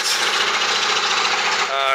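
A borehole drilling rig's engine runs close by at a farm house, a dense steady mechanical rumble and rattle with a voice talking over it.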